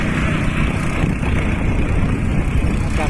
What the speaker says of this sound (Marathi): तो भारी ट्रॅक्टर ऐकला